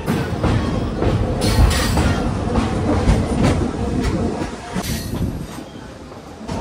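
A local train from Lataguri to Siliguri rolls steadily along the rails with a continuous rumble and rhythmic clatter, close and loud, with no voices.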